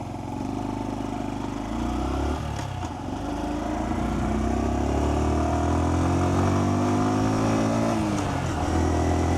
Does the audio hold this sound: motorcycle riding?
yes